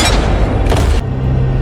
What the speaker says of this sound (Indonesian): disambut dengan tembakan shotgun oleh pendeta